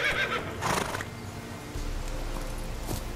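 A horse whinnies in The Witcher: Wild Hunt, a fairly close neigh followed by soft hoof clip-clops and a steady low rumble of ambient game sound.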